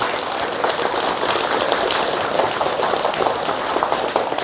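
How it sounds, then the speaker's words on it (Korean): Audience in a crowded temple Dharma hall applauding monks after a Lotus Sutra chanting prayer, a dense, steady wash of many hands clapping close by throughout. "박수를 한번 보내주시면 좋겠습니다"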